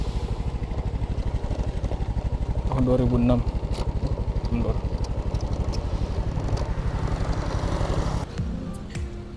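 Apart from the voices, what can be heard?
old 2006 Honda Supra motorcycle engine running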